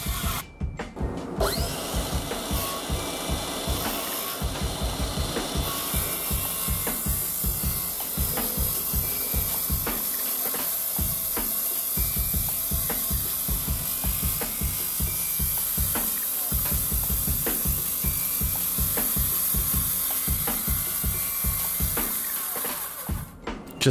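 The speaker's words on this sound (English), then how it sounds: "What we are going to do is finish cutting the rest of these holes to the feet." A saw plunge-cuts holes into sawmill lumber feet for a porch shelving unit. The motor whines loudly and continuously with a rapid rhythmic chatter through the wood for about twenty-four seconds, and no one talks.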